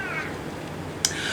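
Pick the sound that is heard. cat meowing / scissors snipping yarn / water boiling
cat meowing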